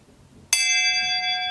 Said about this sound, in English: You're probably wondering why I'm ringing a bell.